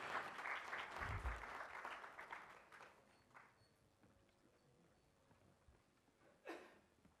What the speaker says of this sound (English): Please give him a huge round of applause for making such a wonderful film.